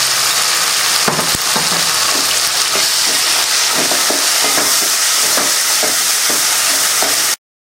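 Tomatoes and salt sautéing in a pan for vatha kulambu give a loud, steady sizzle with bright frying hiss throughout, broken by scattered clicks and scrapes of stirring, all without speech until it cuts off abruptly near the end.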